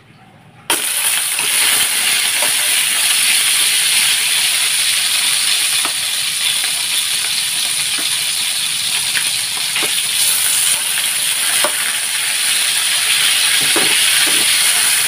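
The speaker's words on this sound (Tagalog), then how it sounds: "So, fry natin tong hotdog." Hotdogs without casings fry in a pan with a steady, loud sizzle and hiss that starts suddenly and holds throughout, marked by occasional faint pops.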